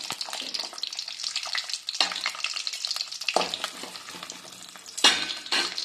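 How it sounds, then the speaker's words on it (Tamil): Small shallots drop into hot oil in a kadai and fry with a bright, crackling sizzle, broken by a few louder bursts and scrapes as they are stirred, close and continuous with no voices. "இப்போ வடச்சட்டியில் வந்து எண்ணெய் காஞ்சிருச்சு வந்து நம்ம சின்ன வெங்காயம் போட்டுக்கலாம்"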